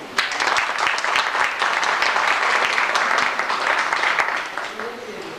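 Dense, steady audience applause at a fan club's first death anniversary tribute to film star Muhammad Ali, filling the hall near and loud throughout before easing slightly at the end.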